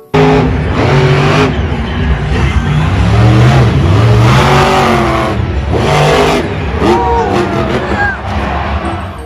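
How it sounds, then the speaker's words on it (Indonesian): A toy monster truck's engine-style revving sound runs loud and continuous, with repeated rising and falling pitch swoops across the whole stretch. "Wah, mobil-mobilan, mobil monster."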